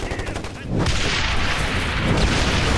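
Gunfire in Ghost Recon Advanced Warfighter 2 on PS3 breaks out suddenly and stays loud, a dense, sustained barrage of heavy shots and booms.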